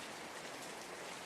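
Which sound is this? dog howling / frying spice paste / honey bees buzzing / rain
rain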